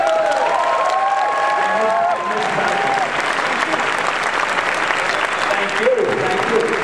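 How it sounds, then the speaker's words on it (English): A Comic-Con convention hall audience applauds Stan Lee, loud sustained clapping from a large crowd with faint cheering, steady throughout, while a few voices carry in the background. "maybe everybody give him a round of applause"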